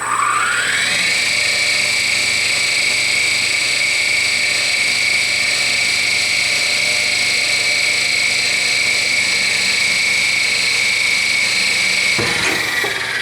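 An Eldorado M375-1001 deep hole gun drilling machine runs at 1550 RPM with high pressure coolant. A loud, steady, high mechanical whine rises in pitch at the start, then holds evenly until an abrupt shift near the end.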